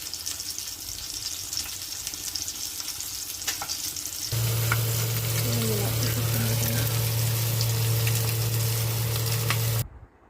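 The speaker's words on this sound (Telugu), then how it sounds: "ఇది కొంచెం పెద్ద చేప కదా, చూసి ఫ్రై చేసుకోవాలి మనం." A fairly large kanagarthalu fish fries in hot oil in a pan, a steady dense sizzle that grows louder midway and holds close and continuous before cutting off abruptly.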